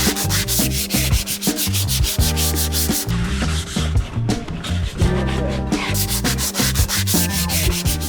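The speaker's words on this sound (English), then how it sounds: "Next step, we sand." Boat saildrives and propellers are sanded to bare metal, a steady close rasping grind that runs without pause under loud background music.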